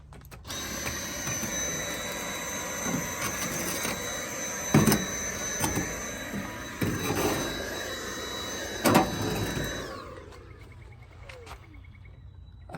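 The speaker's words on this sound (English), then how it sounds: "even if that means bringing out my wife's brand new Dyson" A brand-new Dyson vacuum cleaner runs on the floors of a 1991 Chevy with a steady whining hum and occasional clunks and rattles, then cuts off near the end.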